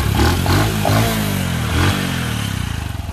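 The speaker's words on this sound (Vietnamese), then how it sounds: "nổ máy cho anh em nghe luôn chứ quên." A Honda Wave Thai 110 motorcycle engine runs loudly up close, revving briefly a few times before settling into a throbbing, pulsing idle.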